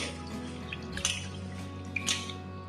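Soaked raw rice is rubbed by hand in a bowl of water during washing for jaggery anarsa dough, giving soft wet sloshes and a couple of brief drippy splashes over faint background music.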